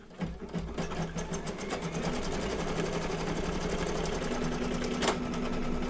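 Embroidery machine stitching down an in-the-hoop Christmas mug rug, a fast, even mechanical chatter of needle strokes with a steady motor hum, loud and close and running continuously without speech.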